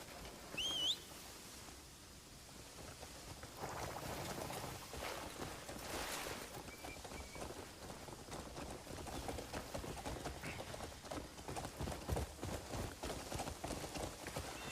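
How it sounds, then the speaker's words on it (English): Faint rhythmic clip-clop of horse hooves while riding in the video game Crimson Desert, a quick steady gait with light ambient game sounds and occasional bird calls behind it. "Let's ride on a horse."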